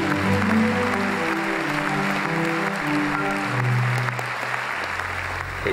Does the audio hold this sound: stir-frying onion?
no